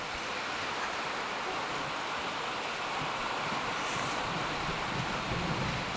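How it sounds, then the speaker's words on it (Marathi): Heavy rain pours down steadily during a thunderstorm with lightning, a dense, continuous wash of noise with deep low rumbling underneath, loud and unbroken throughout, no voices. "आणि प्रचंड असा पाऊस सुरू झालेला आहे"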